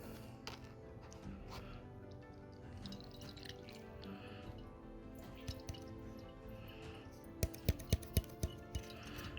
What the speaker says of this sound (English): get a funnel and a coffee filter and just go ahead and pour that in